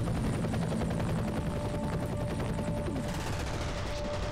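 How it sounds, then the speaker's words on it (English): Helicopter in the video game F.E.A.R., a steady rotor drone with rapid bursts of gunfire over it, loud and continuous. "Is that chopper for me?"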